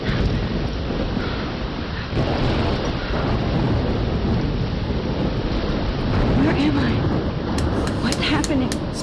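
Thunder rumbles through the Life Is Strange video game as heavy rain and gusting wind roar steadily, with a deep boom building partway through and a sharper crack near the end.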